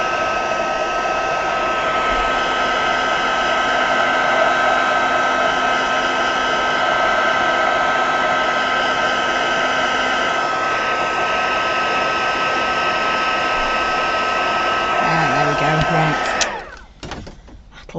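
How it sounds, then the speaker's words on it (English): A heat gun blows hot air steadily onto a craft project, a loud, constant whooshing drone with a fixed tone that runs about sixteen seconds before shutting off abruptly near the end. "I do get impatient when I'm heat gunning."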